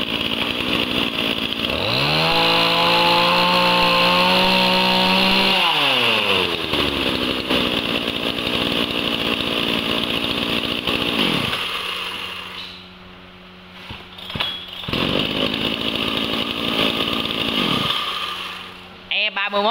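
A Shingu XV39 chainsaw, 39cc with a 36 cm bar, runs loudly up close, revving to a high whine, dropping back to a rough idle and revving again, with a brief lull near the end.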